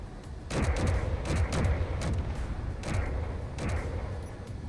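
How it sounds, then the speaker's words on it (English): Explosions and gunfire in a video game. Rapid bursts of shots crack out in several clusters, mixed with deep booming blasts that rumble between the volleys. "Explosions."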